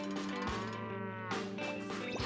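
A farm cow lets out two long, loud, deep moos in quick succession, close by and with no other voices.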